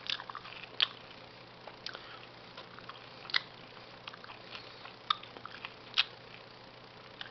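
Someone chews a hard-shelled, chewy-centred green-apple Polish candy, with quiet crunchy bites and sharper snaps scattered irregularly over a soft background hiss.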